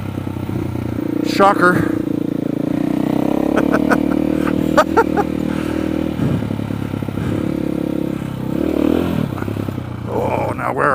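An off-road motorcycle engine idles and putters on an OHV trail, with a quick throttle blip and some clatter, close and loud, while a rider speaks briefly.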